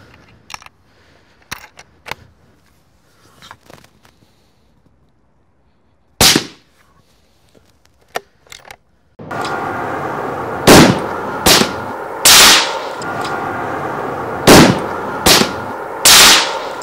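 Titan 6 carbon rifle fired with and without a Hausken silencer: sharp, loud shots heard singly at first, then a run of closely spaced reports over a steady background hiss.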